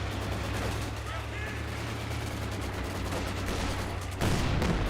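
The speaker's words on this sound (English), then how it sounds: "Maxim fire away" A Maxim machine gun firing in the World War II video game Company of Heroes 2 sounds as a steady, rapid drone of automatic fire among other battlefield shots, with a commentator talking over it.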